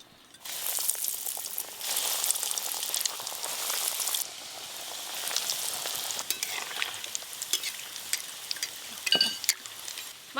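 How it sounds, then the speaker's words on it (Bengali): Egg devils, crumb-coated egg chops, frying four at a time in hot oil, giving a steady close sizzle and crackle that runs nearly throughout with small bursts and stirring noises. "এবার আমি এগ টেবিলগুলো চারটে চারটে করে ভেজে নেব।"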